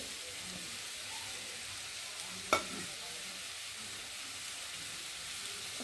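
Fried potatoes sizzle in a pan as ground turmeric, chilli powder, salt and cumin powder go in. A faint, even frying hiss runs throughout, broken once midway by a single sharp clink of a utensil.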